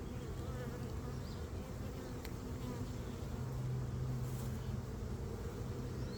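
Honeybees hum in a dense, steady drone around hives at a new apiary in hot, humid weather, close and continuous with a low buzzing layer throughout.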